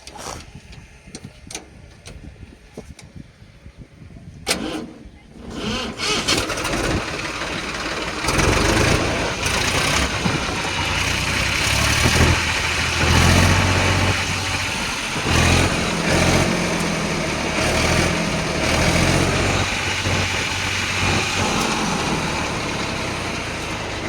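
After a few clicks and rattles, an Eicher 380 tractor's diesel engine cranks and catches, then settles into a loud, steady, close idle for the remaining twenty seconds.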